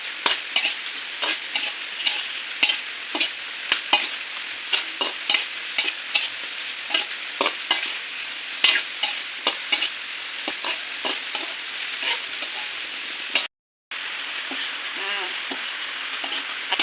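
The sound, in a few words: stirring marinated chicken cooking in a pan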